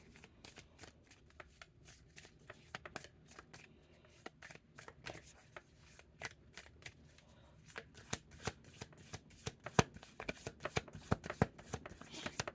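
A deck of slightly long cards is riffle-shuffled by hand, giving bursts of rapid, crisp flutters and snaps that grow louder and denser toward the end, close and clear with faint talk in the background.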